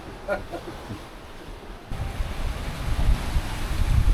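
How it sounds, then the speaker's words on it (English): Sea waves wash and wind gusts rush past a Lagoon 51 catamaran under sail, a steady broadband roar that swells louder halfway through with faint voices early on. "The waves have developed and they're not bouncing from the cliffs anymore, so it's way more comfortable"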